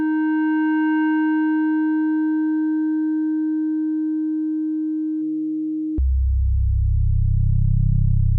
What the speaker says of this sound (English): we're just hearing a sine wave that's being through zero modulated over here.